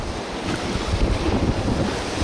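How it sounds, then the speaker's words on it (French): Rushing water of the large Seti River in Nepal, a loud, steady broadband roar of flowing current with wind buffeting the microphone, no speech. "c'est une grosse rivière."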